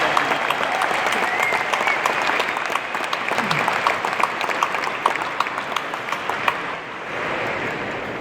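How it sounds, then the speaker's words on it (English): An audience at Web Summit Lisbon 2023 bursts into sustained applause, a dense, loud wash of clapping that holds steady and then eases off slightly near the end. "So I'd like to give him a massive round of applause."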